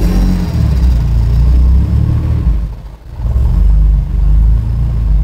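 A Toyota 80 Series engine runs loud and close, its low rumble wavering unevenly as it struggles to hold idle, sagging almost to a stall around the middle before picking back up to a steady drone.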